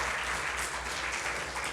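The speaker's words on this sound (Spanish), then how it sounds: "Dale una ofrenda de palmas al Señor." A church congregation applauds during a Spanish-language sermon, a dense, loud, continuous wash of clapping from many hands filling the whole moment.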